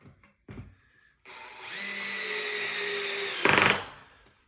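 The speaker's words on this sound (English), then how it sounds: "let's put this extra screw in here and make sure the table's together" A power drill drives a screw into a height-adjustable table during furniture assembly, whirring steadily for about two seconds before a sharp final burst as the screw seats, preceded by a few light knocks.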